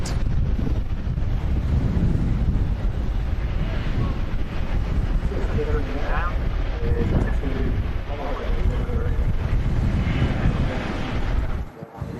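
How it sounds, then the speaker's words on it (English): A Jet2 Airbus A321 arrives at Manchester Airport during strong gusts, its engine roar partly buried under loud, constant wind buffeting on the microphone, with people talking over it. "That Jet2 A321 just arriving in from Geneva."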